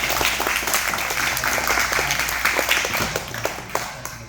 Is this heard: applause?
yes